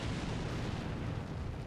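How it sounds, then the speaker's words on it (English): Dense, continuous rumble of artillery fire from the war game Combat Mission, shells landing on a forest road, a low, sustained roar of overlapping blasts without distinct individual booms. "enemy artillery starts falling on the forest road"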